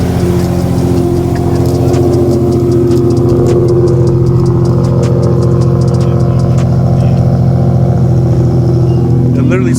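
Infiniti G35 sedan fitted with test pipes idles with a steady, loud, raspy drone throughout, with people talking over it.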